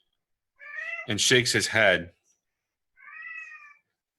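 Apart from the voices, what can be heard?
cat meowing at the speaker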